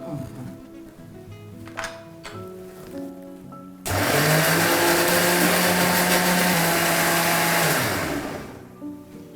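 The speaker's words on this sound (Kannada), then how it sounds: "ಇದನ್ನು ಗ್ರೈಂಡ್ ಮಿಕ್ಸಿಗೆ ಹಾಕ್ಕೊಳ್ಳೋಣ" A mixer grinder whirs loudly while grinding vada batter, switching on abruptly after some quiet kitchen sounds and voices, holding a high, steady whine for about four seconds, then winding down.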